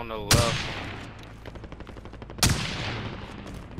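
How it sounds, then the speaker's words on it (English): Gunfire in a video game, two sharp loud shots about two seconds apart, each followed by a rapid rattling burst of fire, with a voice briefly heard underneath. "somebody like shooting down at us from there"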